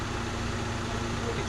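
A Valiant 225 slant six with its exhaust popped out is cranked over by its starter on a weak battery, giving a steady, close, low whirring drone for the whole moment without catching.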